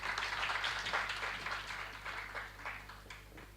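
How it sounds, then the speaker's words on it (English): Audience applause for a moderator on stage at an IIT Delhi keynote session: steady, even clapping from a seated crowd, moderately distant in a hall, over a low electrical hum. "Give a round of applause for our moderator,"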